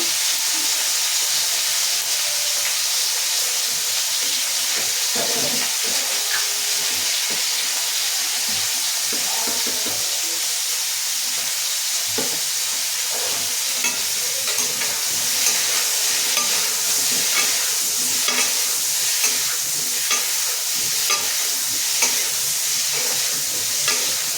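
Summer vegetables sizzle loudly and continuously in a hot pan with salt and turmeric, while repeated scraping strokes of a stirring utensil run through the whole stretch.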